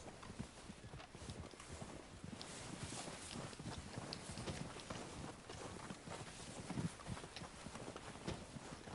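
Horse hooves run in the video game Red Dead Redemption 2: a quiet, steady clip-clop of galloping steps, continuous and fairly distant, with no one talking.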